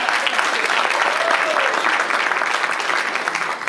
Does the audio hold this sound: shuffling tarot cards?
no